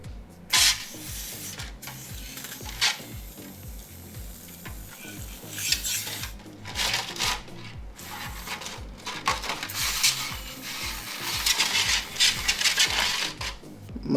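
Corrosion remover fizzes and bubbles steadily over corroded Nokia Lumia 1020 phone parts, a close, continuous crackling hiss with small clicks and clinks of metal parts throughout.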